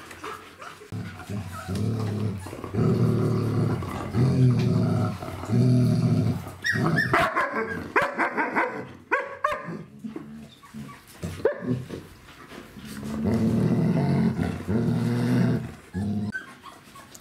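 A pack of Czechoslovakian wolfdogs growls, snarls and barks in rough bursts, loud and close, easing briefly in the middle before the growling swells again.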